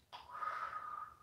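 A single drawn-out breath through the mouth during a French psoas stabilisation exercise, a soft airy exhale with a faint wheezy whistle, close and quiet, lasting about a second with no talking.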